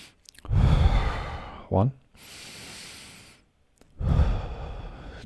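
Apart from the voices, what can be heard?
taking deep breaths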